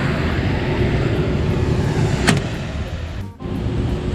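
A Carrier rooftop unit's blower motor runs steadily with a continuous broadband whoosh, fairly loud and close, with a brief sharp transient and a short dip in the steady rush near the end.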